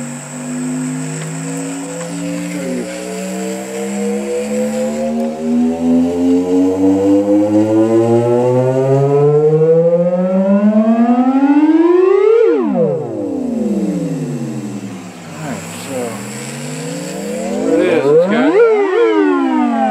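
A cassette tape plays back loudly from a Portland TC-1000T (Sanyo M-7900K) mini slim boombox, with sweeping rising and falling siren-like tones that swoop repeatedly.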